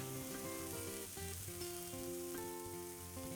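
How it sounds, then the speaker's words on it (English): Chicken sizzles loudly in a frying pan, a dense continuous crackle and hiss like light rain, close and steady throughout. "Let's get the chicken in here."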